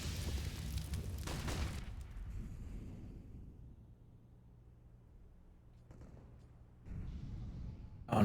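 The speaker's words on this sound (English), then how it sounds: "Nice nade stack on connector, clearing that out" Grenades detonate in quick succession during a CS:GO match on Mirage, a dense cluster of loud booms at the start that fades into a low rumble, with more bursts returning near the end.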